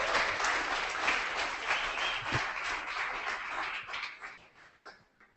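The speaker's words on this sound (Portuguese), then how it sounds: "Mais uma salva de palmas para esse povo aí." Applause from an audience at a photojournalism workshop, steady dense clapping that carries on for several seconds before thinning out and fading near the end.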